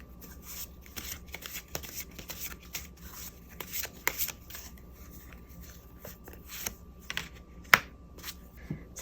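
Tarot cards shuffled by hand over about nine seconds, with a steady papery riffle and rustle and sharper snaps and flicks as individual cards are drawn and laid down, close up and with no talking.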